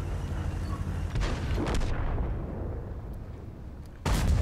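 A tank cannon fires in World of Tanks, a heavy booming blast with a rumbling tail that fades, followed by another loud burst near the end, with no talk.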